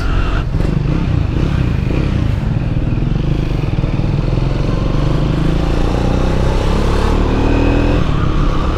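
A 2024 Triumph Speed 400 motorcycle engine running close and loud, a steady throbbing rumble with slight shifts in revs throughout.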